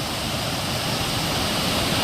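A forceful stream rushes through the forest at Bisle Ghat near Sakaleshapura, making a steady, dense roar of flowing water that is close and unbroken, with no voices over it.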